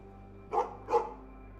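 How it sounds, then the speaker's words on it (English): A dog in the survival game HumanitZ gives two sharp, close barks about a third of a second apart, over a quiet game soundscape with a faint low hum. "They're just barking at me."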